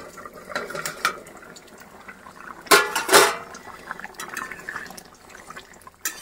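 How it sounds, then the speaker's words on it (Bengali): A pot of fish curry boils on the stove, giving a watery bubbling and gurgling that swells into a louder burst midway, with faint clatter around it. "এখানে মাছের ঝোল ফুটছে"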